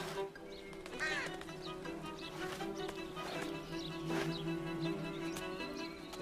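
Bird chirping in Shadow of the Tomb Raider, scattered short calls over a busy game soundscape with a steady tonal drone, moderately loud and mixed with ambient game sound.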